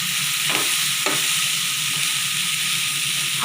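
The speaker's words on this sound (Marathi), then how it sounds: "आता भाजी 2-3 मिनिटे चांगलं परतून घ्यायची आहे" Vegetables stir-fried in a hot pan for soybean keema, a loud continuous close sizzle and hiss with a couple of stirring scrapes, no talking.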